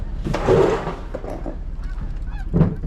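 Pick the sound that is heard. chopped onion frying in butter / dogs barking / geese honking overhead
geese honking overhead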